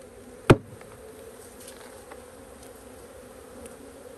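Honeybees buzzing at a hive being given new frames, a sharp thump as the bees are shaken in, then a faint, continuous insect hum.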